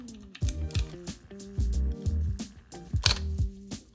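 Photo camera powering off, with a series of close, crisp mechanical clicks and clacks from the shutter mechanism closing, irregular in rhythm, with no talk.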